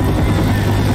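A helicopter in the video game Left 4 Dead, a steady low rotor drone with a constant hum, loud and unbroken for the whole moment.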